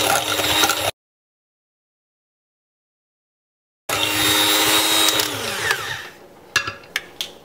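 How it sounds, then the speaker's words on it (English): An electric mixer whirs steadily as it beats condensed milk into a no-bake mini cheesecake batter. The motor cuts out for a few seconds, starts again at full strength, then winds down into a few sharp taps. "Next, add your condensed milk and give that a good mix."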